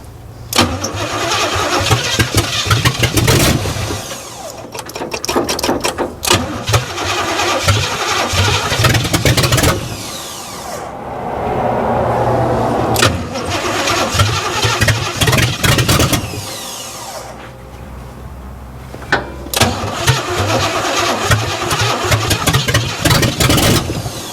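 An abandoned 1967 GMC truck engine, its carburetor topped off with gas, cranks in several long loud bursts, then catches and roars to life with revving, close and dominant with brief pauses between attempts.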